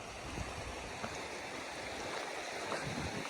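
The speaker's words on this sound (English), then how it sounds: "We're walking next to this little creek." A small creek beside an Appalachian Trail hiking path gives a steady, close rush of flowing water without pause and no talking.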